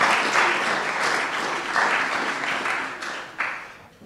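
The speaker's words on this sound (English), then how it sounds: "can we just have a round of applause for Jess and all of her work?" An audience at a spring entrepreneur demo day event claps in sustained applause, a dense, even patter of many hands filling the room for several seconds before tapering off.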